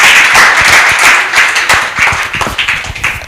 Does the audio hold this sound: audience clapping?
yes